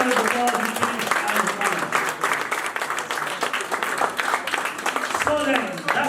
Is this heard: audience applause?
yes